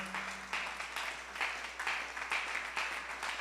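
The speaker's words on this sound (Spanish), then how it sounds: "dele fuerte el aplauso a Dios" A church congregation claps for God in a steady burst of applause, faint and somewhat distant, with a low hum beneath it.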